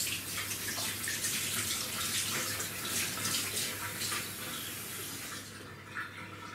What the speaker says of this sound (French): vous lavez vos endives aussi